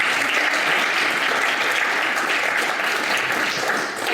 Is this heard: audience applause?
yes